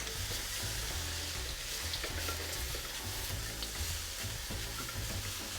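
Chinese fried rice sizzles in a pan, a dense, steady frying hiss with low stirring scrapes underneath, close and constant with no voices.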